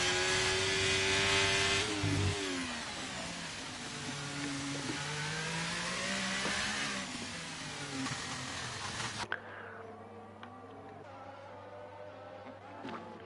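F1 race car engine on an out lap in a racing video game, a high droning whine rising and falling through gear changes, continuous and fairly loud before cutting to a quieter hum with a low steady tone.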